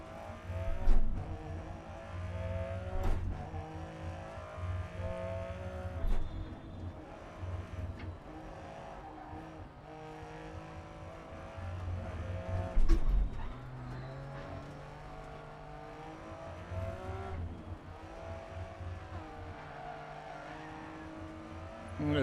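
A Lancia Stratos rally car engine drones and revs in Dirt Rally 2.0, with rising and falling pitch, a braking spin-out, and occasional thumps from impacts, steady and fairly loud throughout.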